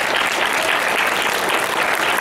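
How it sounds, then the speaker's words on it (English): Audience clapping at a pre-K graduation ceremony, a dense, steady round of applause from many hands that holds evenly throughout the short stretch without a break. "let's give them a round of applause again"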